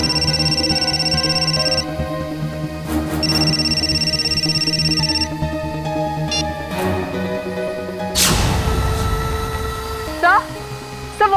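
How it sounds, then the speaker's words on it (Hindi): A telephone rings in a tense TV crime-drama scene, a steady electronic tone pulsing under dramatic background music and sound effects, fairly loud and near. "सिद्धार्थ का फोन।"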